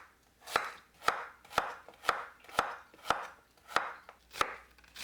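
A radish sliced into flat rounds with a knife on a cutting board: ten crisp, evenly spaced chops in a steady rhythm, close and clear with no talking.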